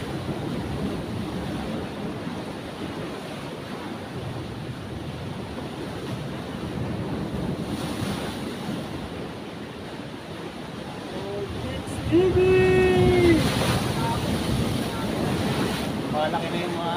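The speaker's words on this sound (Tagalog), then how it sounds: "Lalaki na yung mga alon." Big ocean waves surge and crash on the shore at high tide, a loud continuous roar buffeted by heavy wind noise on the microphone, growing stronger and louder near the end.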